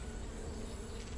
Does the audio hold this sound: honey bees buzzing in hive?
yes